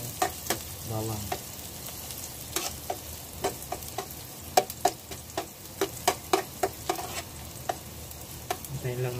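Garlic frying in a pan, a steady close sizzle with crackling pops and sharp utensil ticks as it is stirred, without talk.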